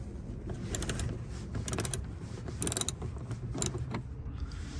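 A ratchet wrench loosens a 10 mm bolt on a 2016-2021 Honda Civic near the foglight, giving a series of quick clicking, creaking ratchet bursts over low background noise, close and moderately quiet, with no speech.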